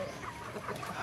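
Chickens being fed scattered cracked corn, soft clucks and low murmuring from the flock, faint and close together over a steady background hiss.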